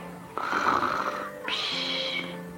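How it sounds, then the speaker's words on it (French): A cartoon snoring sound in two long drawn-out breaths, the second higher and raspier, with a cartoonish voiced quality over a quiet background. "J'entends quelqu'un ronfler."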